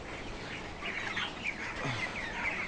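Many broiler chickens about 24 to 25 days old cluck and chirp at a moderate distance in a steady, overlapping chorus, with no talking.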